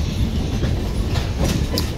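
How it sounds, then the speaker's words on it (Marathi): A passenger train on the Mumbai to Puri route rolls into Bhusawal station, with a loud, steady rumble and clickety-clack of wheels on rails close by and no voices. "सनराईज झालेला आहे आणि ट्रेन आली आहे भुसावळ स्टेशनला."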